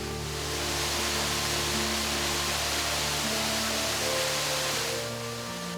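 Steady broadband rush of an Arkansas waterfall, a continuous loud wash of falling water that holds even throughout, with no voices over it.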